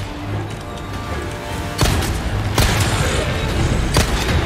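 Barrels exploding in Resident Evil 4 Remake: three sharp, booming blasts land one after another over a steady background rumble, each loud and close.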